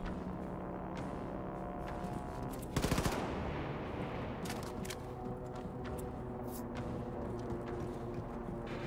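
Machine pistol fire in the Wolfenstein 2 shooter game, rapid automatic bursts with one loud dense volley near the three-second mark, over continuous game noise and scattered sharp hits.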